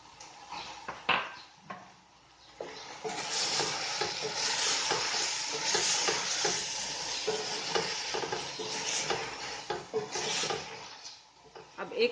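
Carrots, peas, beans and red and green capsicum stir-fry for chicken fried rice in a hot pan, a steady close sizzle broken by repeated spatula scrapes and clinks against the pan.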